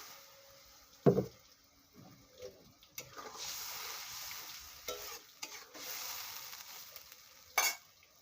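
Water poured into sizzling masala with potatoes in a pan on a home stove; a steady hissing sizzle swells and fades for several seconds, with a few sharp utensil clinks and no talking.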